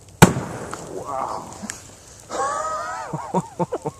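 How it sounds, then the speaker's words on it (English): Bamboo bursts in a bonfire with one sharp, loud crack, then the fire hisses and sputters in a series of short pops and whistles. A voice reacts briefly. "Gives you an idea of the force of the bamboo popping."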